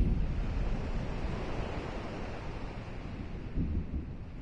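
A thunderstorm at sea in Kingdom Hearts rolls with low rumbling thunder, crashing surf and gusting wind, a constant heavy roar with a swell near the end. No voices are heard.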